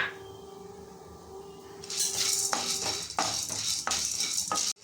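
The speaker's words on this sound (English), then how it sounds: "next you have to take split gram dal and you have to fry this also in the same way" Split gram dal is fried and stirred in a pan, with a quiet hum at first, then repeated loud scraping and rattling strokes of a utensil against the metal, each ending in a sharp clack.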